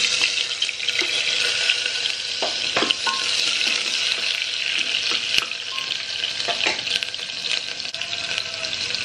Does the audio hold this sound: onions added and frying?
yes